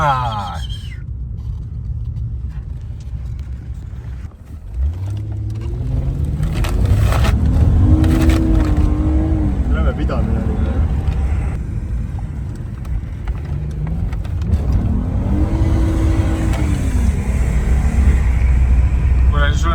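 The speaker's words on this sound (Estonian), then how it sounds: "on Jaapani auto hääl." A tuned Japanese car's engine revs loudly in two rising surges, heard from inside a moving sedan over a constant low road rumble during a road trip from Spain to Estonia, with some voices in the car.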